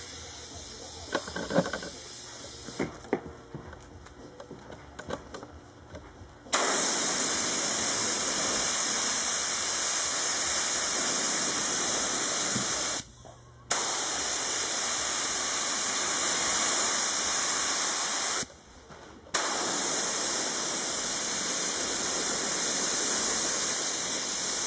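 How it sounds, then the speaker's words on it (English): Water-based glue sprayed onto a mattress in long, loud, steady hissing bursts, with two brief pauses between passes and a quieter stretch of handling noise at the start. "we lay down a layer of our water-based glue along the perimeter here"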